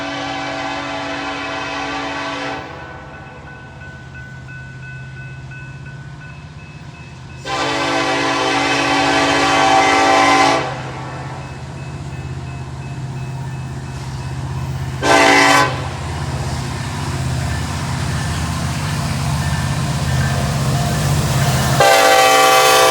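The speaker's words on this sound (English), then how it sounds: "Sounds like another SD70 ACE, just because that horn, they all seem to sound like that." A Norfolk Southern SD70ACE freight locomotive sounds its chord horn in loud, close blasts: two long ones, a short toot and the start of another. A deep rumble of the passing freight train runs underneath throughout.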